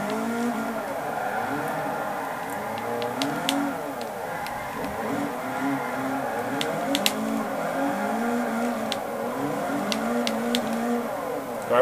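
Engines whine steadily as cars drift around a track in the video game Forza Motorsport 4, with sharp tire squeals and brief screeches breaking through a continuous motor drone.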